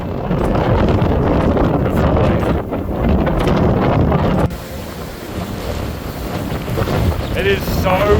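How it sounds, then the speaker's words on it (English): Strong, gusty wind buffeting the microphone at Cape York on the northernmost tip of Australia, a roaring, rumbling blast that eases a little halfway through, with faint voices underneath. "It is so windy here. The audio is going to be atrocious."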